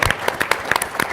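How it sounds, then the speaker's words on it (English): A brief burst of audience clapping at a tourism trends conference talk, with individual claps audible in a short, uneven patter that lasts only about a second. "Round of applause for Donna."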